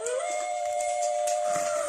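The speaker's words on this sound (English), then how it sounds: "the ghostly howl of the wolf echoes through the desolate valleys of the Rocky Mountains" A wolf howls in the Rocky Mountains on a still moonlit night, a single long, clear, rising then sustained tonal note, fairly loud and alone.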